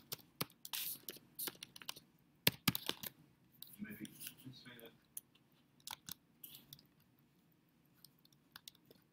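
Fingers typing a URL on a computer keyboard, a faint, close run of irregular key clacks in bursts, with a brief pause midway, no talk.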